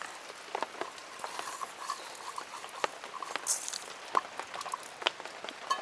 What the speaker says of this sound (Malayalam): ഇനി നമുക്ക് ഈ പരിപ്പിനെ ഒന്ന് രണ്ട് മിനിറ്റ് വറുത്തെടുക്കണം